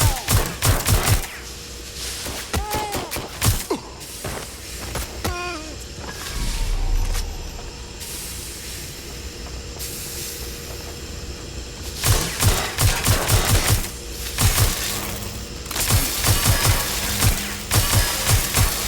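Bursts of automatic gunfire in the video game Watch Dogs Legion, rapid loud rattling volleys at the start and again near the end, separated by a quieter stretch with a low rumble and a few electronic tones.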